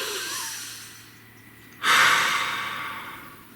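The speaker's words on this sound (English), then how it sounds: "Please take a nice deep breath." A single deep breath, close and fairly loud: a long, rushing exhale that starts abruptly and fades over about two seconds after a softer, quieter intake.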